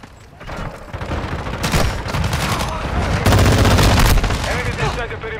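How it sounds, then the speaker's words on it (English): Mortar strike explosions and rapid gunfire from the Modern Warfare II video game, a dense, loud, continuous barrage of blasts and shots with heavy booms that swell midway. "Hostile mortar strike incoming!"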